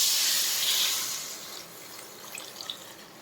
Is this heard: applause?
no